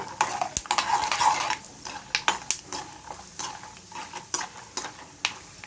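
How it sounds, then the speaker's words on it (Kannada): A spoon scrapes and clicks through peanuts roasting in oil in a metal pan, irregular close stirring strokes over a faint sizzle, with no talk. "ಬಾಣಲಿಗೆ ಎಣ್ಣೆ ಹಾಕಿ ಕಡಲೆಬೀಜ ಹುರ್ಕೋತಾ ಇದ್ದೀನಿ"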